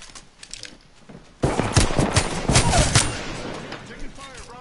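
Gunfire in the video game Apex Legends starts abruptly after a quiet stretch and continues as loud, rapid automatic bursts with sharp cracks, staying dense and close until the end.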